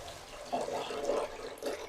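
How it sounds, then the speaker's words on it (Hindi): Water poured into a pot of fried masoor and moong lentils, a soft, fairly quiet splashing stream rising and falling in bursts. "अब हम इसमें पानी डाल देंगे।"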